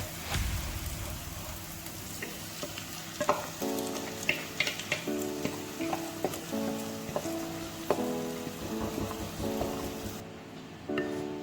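Crab sukka with masala sizzles and fries in a pan, Mangalore village style, with steady crackling broken by repeated scraping stir strokes and clinks of a spoon against the vessel; no talking.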